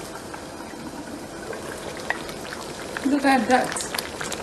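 Egusi and ogbono soup simmers in a covered pot with a soft, steady bubbling hiss close by, and a short spoken remark rises over it near the end.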